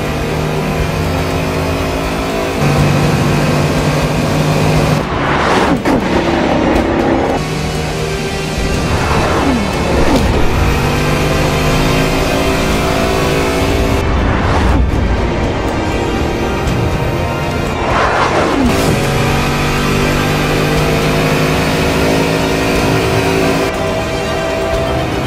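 A high-performance hypercar with a top speed of 304 mph revs its engine and drives by, loud and close, with repeated surges and gear changes over a continuous engine roar.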